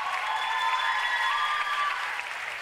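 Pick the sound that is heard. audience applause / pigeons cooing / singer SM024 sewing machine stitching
audience applause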